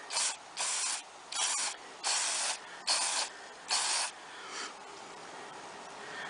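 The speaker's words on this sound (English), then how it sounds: "You just give it a bit of a spray" Six short bursts of aerosol mass airflow sensor cleaner hissing in a quick, uneven rhythm, close by, followed by a softer, fainter spritz near the end.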